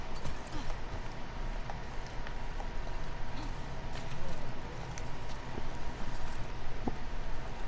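Horse hooves clip-clopping in The Last of Us Part 2, a steady trotting rhythm under game music and ambience, with a voice talking over parts of it.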